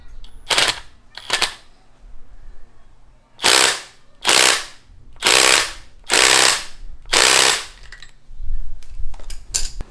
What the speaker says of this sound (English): I just can't seem to get this nut to come loose, even with my impact wrench and everything.